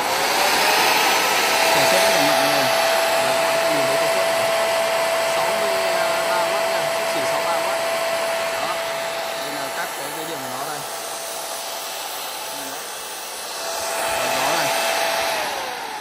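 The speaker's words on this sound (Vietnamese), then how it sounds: "Đây là cái quạt 12V này." A 12V electric fan running off a solar-charged battery gives a steady, loud whirring hum with a constant motor whine, easing slightly in the middle before swelling again near the end.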